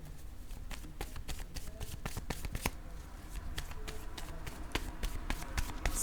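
A deck of tarot cards is shuffled close by, giving a steady run of crisp riffling slaps and taps that carries on alone without a break.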